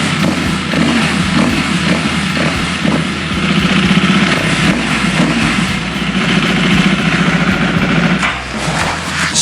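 A Husky street-legal dirt bike engine runs steadily and loudly close by, a continuous buzzing idle with small shifts in pitch and no talking over it.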